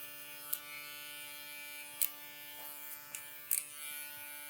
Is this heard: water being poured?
no